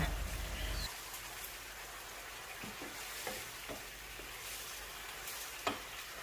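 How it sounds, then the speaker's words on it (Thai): Korean glass noodles stir-fry with sauce in a pan, giving a soft, steady hiss with faint scraping and light taps from stirring, close but quiet. "ผัดเส้นกับน้ำซอสให้เข้ากันค่ะ"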